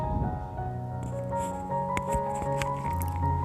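A chopped medium onion goes into a teaspoon of hot oil in a pan while making aloo paratha, giving soft, moist squishing and faint sizzling over a steady background with sustained tonal hum.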